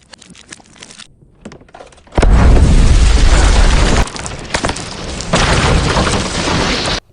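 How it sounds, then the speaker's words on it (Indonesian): In a Korean film, a sudden loud boom as the floor explodes bursts in after a quiet stretch, followed by sustained roaring rumble and a second surge of blast noise. "tiba-tiba lantai yang mereka injak langsung meledak"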